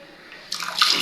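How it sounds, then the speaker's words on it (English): Tap water in a kitchen at a plumbing site starts running halfway through, a steady broad hiss and splash that swells louder toward the end. "The water is running."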